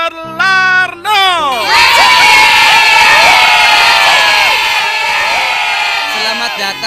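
A crowd of children cheers, shouts and whoops loudly at a magic show, a sustained roar of high young voices rising right after an announcer's short call and fading slightly near the end.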